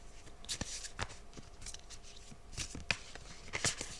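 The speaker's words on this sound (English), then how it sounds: "I'm not the best shuffler, I'm sorry." Tarot cards are shuffled by hand in quiet, irregular bursts of crisp riffling and sharp slaps, close by, with no talking.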